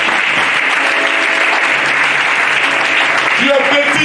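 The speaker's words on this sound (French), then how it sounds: "Est-ce qu'on peut acclamer la parole de Dieu?" A church congregation bursts into steady, full applause that fills the room at close range and stays even throughout, with a voice rising briefly near the end.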